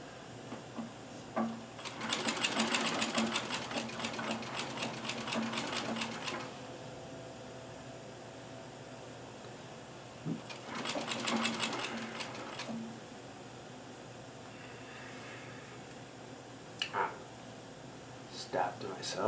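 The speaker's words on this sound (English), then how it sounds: "which is where the walking foot comes in because it holds it securely while you're sewing" A sewing machine fitted with a walking foot stitches the cuff of a bomber jacket in two close, rapid bursts of mechanical whirring and needle clatter, separated by quiet handling and a few light clicks.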